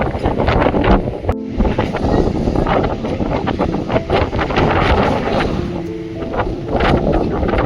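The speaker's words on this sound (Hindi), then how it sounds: "बहुत तेज आंधी है यार।" Strong wind roars and buffets the microphone continuously in a mountain storm near Kausani, Uttarakhand, a loud, gusty rush with no speech.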